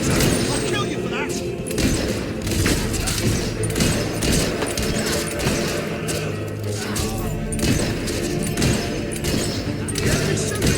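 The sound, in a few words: gunfire in battle in the video game Fable III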